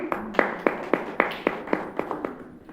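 Audience at a Hindi stage play in a Lucknow auditorium clapping for an actress: a dozen or so sparse, fairly evenly spaced claps, sharp and near, tapering off toward the end, with no voices.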